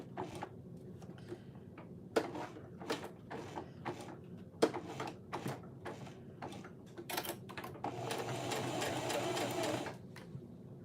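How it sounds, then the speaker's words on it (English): A sewing machine stitches a cotton woven phone sling near its zipper end, short bursts of rapid needle chatter separated by pauses and clicks, then a longer continuous run near the end. "Because I don't want to sew over the zipper end."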